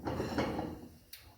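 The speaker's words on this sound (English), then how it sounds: "So opening my drawer." A kitchen drawer slides open with a brief rumbling scrape, then a light knock as it stops, close and fairly quiet.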